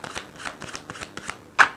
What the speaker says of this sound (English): I'm going to use the playing cards to get some information about the devil energy here.